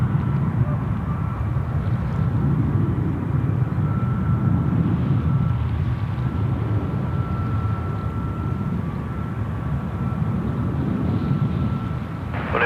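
An All Nippon Airways airliner on final approach to runway 34 left at Sydney Airport makes a continuous broad jet roar, steady and fairly loud throughout, with a voice talking over it.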